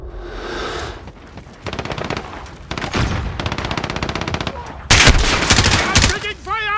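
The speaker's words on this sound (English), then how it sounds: "I'm taking fire!" Gunfire from Call of Duty: Modern Warfare multiplayer rattles in loud, rapid automatic bursts, with dense fusillades building to an intense volley near the end, close and heavy, over faint game voices.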